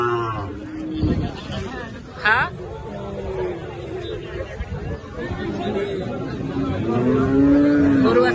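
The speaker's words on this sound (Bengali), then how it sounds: "মকরুপুর বাজার ভরপুর গরু" Cattle lowing at a crowded village cattle market during rain: a few moos rise over steady crowd chatter and speech, with one longer moo near the end.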